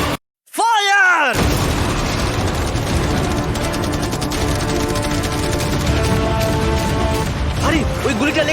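Cannon fire and fireworks explode at a yacht in a dense, loud barrage of booms, cracks and crashes after a brief silence, continuing throughout with voices shouting under the blasts.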